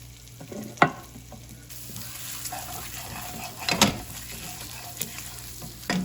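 Turkey bacon fries in a pan with garlic and onion for a pasta dish, a soft steady sizzle with a few sharp scrapes and clatters of stirring, moderately quiet and close.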